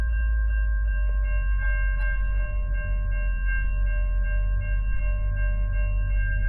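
A train sounding its horn at the Berkley Crossing on the South Coast Rail line at 2 a.m. The steady, loud horn tones hold over a deep rumble of the train for the whole stretch, with no talk.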